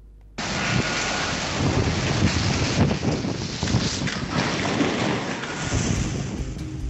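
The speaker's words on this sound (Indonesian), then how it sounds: "Video amatir ini merekam detik-detik saat angin puting beliung menerjang rumah warga serta sejumlah fasilitas umum di Sidoarjo, Jawa Timur Rabu sore" Tornado winds strike houses in Sidoarjo, East Java, a loud, steady roar of wind that starts abruptly and rushes on without pause, with no voices.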